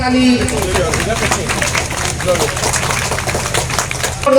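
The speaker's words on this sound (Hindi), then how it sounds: "जोरदार ताली बजाइए" Clapping from a crowd at a rural skills-scheme event in Pakur, where trainees are handed letters, rising through broadband noise with talk and murmur from the gathering mixed in.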